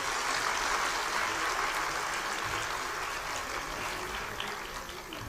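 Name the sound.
audience applauding at a public event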